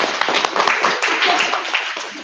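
Dense, loud clapping from a meeting audience welcoming a new member, a steady wash of many hands over about two seconds with no talk on top.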